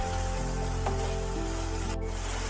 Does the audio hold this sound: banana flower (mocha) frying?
yes